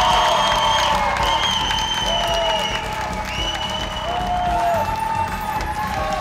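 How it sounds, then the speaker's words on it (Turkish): Loud studio audience applause and cheering with whoops for a contestant arriving on a Turkish gymnastics game show, steady dense clapping throughout with music underneath. "Hanımlar, beyler, alkışlarınızla"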